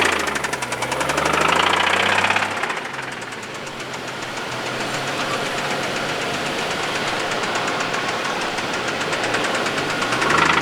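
Worn car engine with clattery, badly designed pistons knocking in a fast, steady metallic clatter, close and loud, surging briefly at the start and again at the end.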